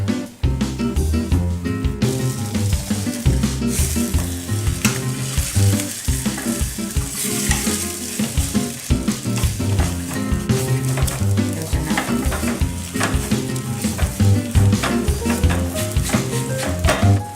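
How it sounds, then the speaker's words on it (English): An egg frying in a pan and turned with a spatula, a loud steady sizzle running throughout with frequent crackles and occasional scraping as the spatula works underneath. "the egg is already turning white"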